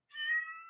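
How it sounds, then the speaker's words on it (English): A cat gives one short, clear meow, quiet and alone against a silent background. "that's the cat that makes all the noise when we're filming"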